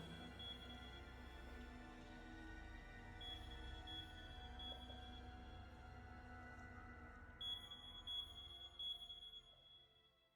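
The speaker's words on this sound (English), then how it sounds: "It's just an alarm." Repeated electronic alarm beeps in a puzzle video game, a steady high tone over a low hum that turns into sharper, louder beeps near the end.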